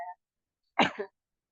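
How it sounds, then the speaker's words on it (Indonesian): A single short cough, close and fairly loud, after a brief bit of speech from someone talking about home schooling. "Maaf ya, agak batuk sedikit ya."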